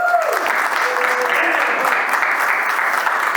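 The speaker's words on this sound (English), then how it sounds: "we're going to give you a big, nice round of applause" Audience applause at a teacher academy closing ceremony in Eastern Oregon, a steady dense round of clapping from a crowd that carries on throughout with a few faint voices mixed in.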